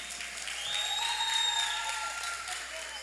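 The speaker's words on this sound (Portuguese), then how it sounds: "Minha presidente, gente, você pode aplaudir mais uma vez por essa mulher?" Crowd at a PRD25 women's caravan event applauds the party president, sustained clapping with a few faint shouts and whistles rising in the middle, moderately close, with no clear speech.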